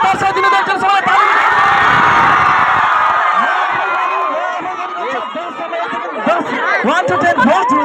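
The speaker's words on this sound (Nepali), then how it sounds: "तपाईँहरूको यो हुटिङले दर्शाइदिनु त एकचोटि सबैलाई ताली" A school crowd of children cheers, whoops and shouts loudly and continuously, a dense roar of many young voices that swells and stays near throughout.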